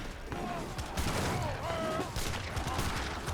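Culverin and falconet cannon fire in Age of Empires, a dense, loud volley of artillery shots and booms under a voice talking.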